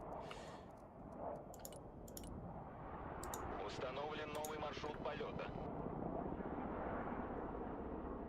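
A military helicopter in the video game Broken Arrow gives a steady, dense droning rumble that runs through the whole stretch, with scattered sharp clicks and a person talking over it.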